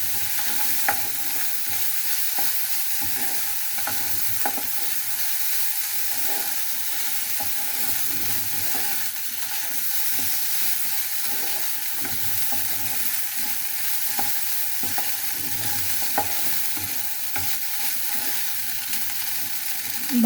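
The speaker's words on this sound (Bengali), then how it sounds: "কিছুটা ভাত ভেজে নিচ্ছি" Rice being stir-fried in a pan with a little oil and salt, after eggs were fried, giving a steady close sizzle broken by frequent spatula scrapes and stirring taps throughout, with no talking.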